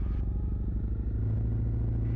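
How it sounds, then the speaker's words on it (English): Honda CRF250L Rally motorcycle fitted with a MotoX exhaust idling nearby, a deep, even low-pitched thrum with steady rapid pulses and a slight rise in rumble partway through. "it definitely sounds a bit more ballsy, particularly at idle, this bike now with the exhaust"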